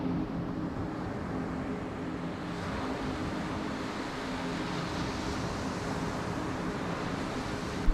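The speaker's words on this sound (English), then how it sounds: "listening to the sound of the waves on an early morning" Ocean waves washing onto a beach in the early morning, a steady broadband surf wash with a constant low hum underneath, continuous and fairly even in level with no voices.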